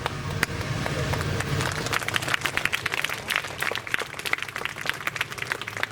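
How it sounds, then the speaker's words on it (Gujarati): Steady applause from an audience at a Guru Purnima ceremony in an ashram honouring schoolgirls, dense hand claps running continuously for about six seconds at close range, with no clear voices. "તાળીઓ."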